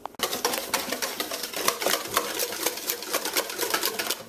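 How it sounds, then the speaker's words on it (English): A wire whisk is worked by hand through a custard base for Caribbean Christmas bread pudding. It gives a rapid, rhythmic run of clicks and taps against the bowl, close and fairly steady, with no voices. "I'm just going to whisk that until it goes nice and smooth and we have that sort of custard base"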